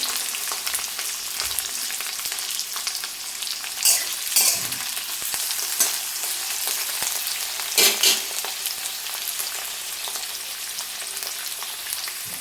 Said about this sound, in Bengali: ক্যাপসিকামটা হালকা একটু ভেজে নেব তারপরে এতে আমি দিয়ে দিব কেটে রাখা পেঁয়াজ